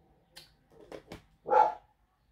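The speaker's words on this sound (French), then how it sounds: "Je suis vraiment désolée pour les aboiements." A dog gives a few short, quick barks, then one louder, fuller bark, close by with no talking.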